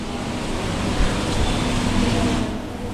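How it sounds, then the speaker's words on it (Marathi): A kitchen exhaust fan runs steadily in a home kitchen, a continuous broadband whir with a faint low hum, close and fairly loud throughout with no talking. "एक्झॉस्ट लावलेला आहे मी जरा त्याचा पण आवाज करा"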